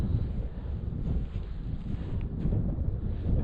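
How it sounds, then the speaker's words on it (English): Wind gusts across a mountain campsite pitched on a flat spot near a steep drop, a constant broad rumble buffeting the microphone with no pauses. "There's a wee wind just now, it's not too bad"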